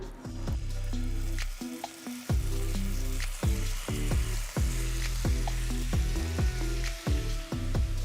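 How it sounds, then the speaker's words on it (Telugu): Marinated chicken sizzles in a tablespoon of oil in a pan, a loud close frying hiss broken by repeated rhythmic knocks and scrapes of stirring. No talking. "ఒక టేబుల్ స్పూన్ నూనె వేసి అందులో మ్యారినేట్ చేసి పెట్టుకున్న చికెన్ వేస్తున్నాను"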